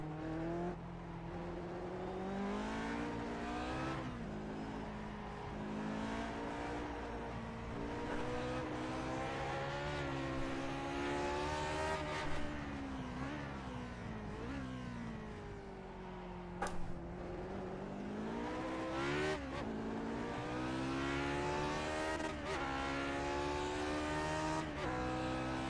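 A Lotus 49 race car in iRacing, its engine droning loudly and continuously as it revs up and down through gear changes, with brief dips and rises in pitch.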